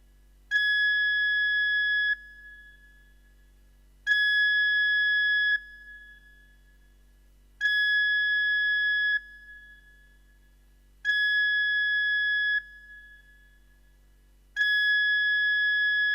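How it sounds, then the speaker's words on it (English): A ship's general alarm on the Club Med 2 cruise ship sounds as a series of five loud, evenly spaced steady electronic tone blasts, each lasting about one and a half seconds, with silent gaps between them and no voices. "a general alarm consisting of 7 short blasts followed by a long blast will broadcast"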